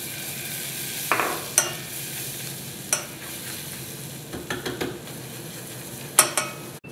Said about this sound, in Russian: Обжариваю муку.